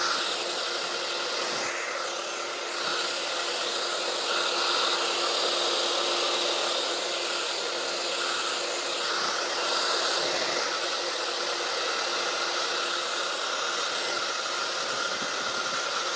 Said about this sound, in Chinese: 接下来我们吹干，进行吹风。